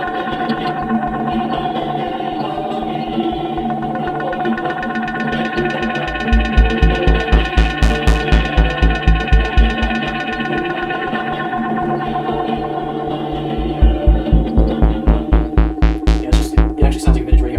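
A cheap Halloween decoration's small speaker plays a tinny, processed electronic sound like an old radio, with a steady throbbing pulse that comes and goes over a continuous buzzing drone.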